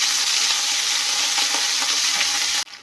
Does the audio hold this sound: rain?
no